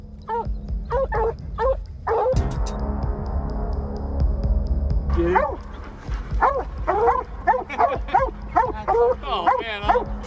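Blue-tick coonhounds and Plott hounds bay and bark on a hunt, a pack of rapid, overlapping yelps and howls with a low engine hum beneath and a pause partway through.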